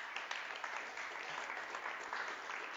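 An audience at an award ceremony applauds steadily, with dense, even clapping that stays faint and distant for a few seconds without any other sound.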